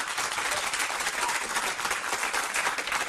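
Steady applause from an audience, dense and even clapping that holds at a constant level for a few seconds with no pauses.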